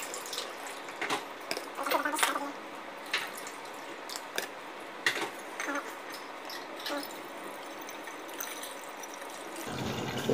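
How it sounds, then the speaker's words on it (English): Kombucha pours through a strainer into a bottle, a soft continuous trickle with scattered drips and small splashes, quiet and close. "What I'm doing right now is to transfer this kombucha into the clean bottle"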